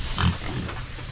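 A farm pig gives a single short, low grunt close by over a steady murmur of background noise.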